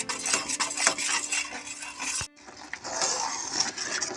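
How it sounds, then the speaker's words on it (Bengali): Thickening sandesh mixture stirred in a pan, with a utensil scraping and knocking against the metal in a steady, continuous rhythm, close and fairly quiet, with no talking. "এরকম করে নাড়তেই হবে, নাড়া বন্ধ করলে এটা ধরে যাবে।"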